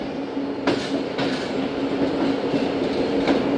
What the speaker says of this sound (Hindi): अब यहाँ पर स्टॉप करेगी अवाम एक्सप्रेस